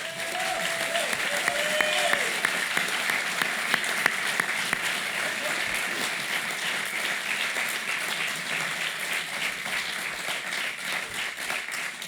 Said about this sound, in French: je crois qu'on peut leur dire un grand bravo et les applaudir chaleureusement